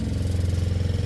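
An RV water pump in a 2010 Tiffin Allegro Open Road 38QBA laboring as it builds pressure during winterizing, a steady low droning hum with a fast rhythmic pulse, close and fairly loud.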